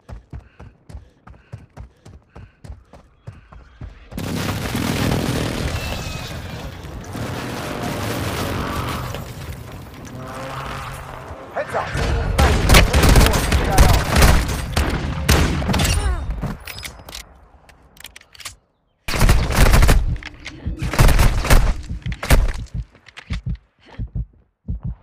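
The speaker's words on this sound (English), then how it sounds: "Hostile airstrike incoming." Airstrike explosions and gunfire in the mobile shooter Call of Duty: Warzone Mobile: rapid light ticking gives way to a long rumbling barrage of booms and dense bursts of shots, broken by one short silence.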